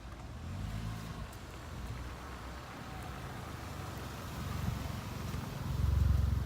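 A Volkswagen GTI approaching and revving, its low engine drone steady under wind buffeting, swelling louder near the end as it draws close.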